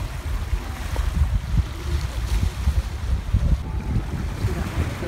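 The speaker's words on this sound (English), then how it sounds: "We'll get to sit here and listen to the waves of the ocean." Ocean waves along the waterfront walk in Tiburon, a steady low rumble of surf mixed with wind noise and passing boat sound, continuous and moderately loud throughout.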